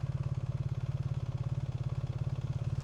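Motorcycle engine idling steadily in a motorcycle parking area at a castle, a rapid even low throb that stays close and constant throughout, with no talking.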